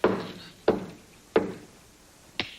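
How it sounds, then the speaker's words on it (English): Four sharp knocks on a door at a steady, unhurried pace, the last slightly lighter, in a sitcom household scene around Christmas; no talking over them. "Answer the door, Tiny Tim."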